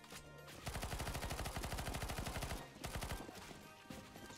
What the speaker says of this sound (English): We are shooting the zombies.